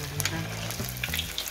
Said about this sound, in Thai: เราจะทำให้เหลืองๆนะคะทอดไปก็เหลืองนะคะ